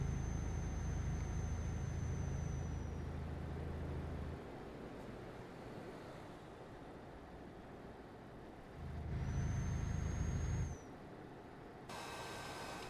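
Truck retarder engaging in Euro Truck Simulator 2, a deep rumbling engine drone that swells twice, each time with a thin high whine, dropping to a quieter roar in between, with no talking.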